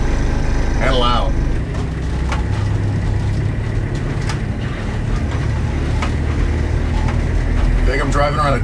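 A big truck engine rumbles steadily while driving through traffic in Japan, a loud low drone running throughout under a person talking.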